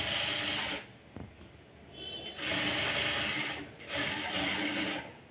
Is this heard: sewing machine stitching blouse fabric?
yes